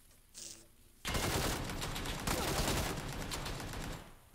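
Rapid automatic gunfire rattles in PUBG on Xbox One S, starting abruptly after a quiet moment and continuing as a loud, dense burst of shots. A brief voice is heard before the firing.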